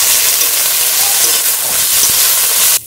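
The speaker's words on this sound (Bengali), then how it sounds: "সমস্ত সবজিটা ভাজা হয়ে গেল।" Mixed vegetables with turmeric and tomato ketchup stir-fried in a hot wok give a loud, steady sizzling hiss with no talk, cutting off abruptly near the end.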